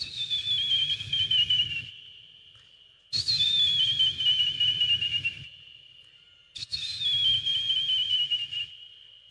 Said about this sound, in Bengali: প্রথমে গার্ড সাহেব হুইসেল মারছে।